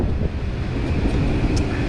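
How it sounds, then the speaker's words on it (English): Wind buffeting a microphone while riding an e-bike, a loud, steady low roar that rumbles continuously with slight gusting, with no voice on top. "Getting a little windy there. A little windy."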